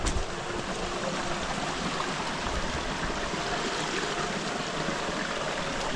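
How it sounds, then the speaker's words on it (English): Creek water flows and splashes steadily close by as someone wades through the middle of a rocky stream in a walled gulch on Oahu, Hawaii, a continuous broadband rush with no talk. "we're walking in the middle of this creek here"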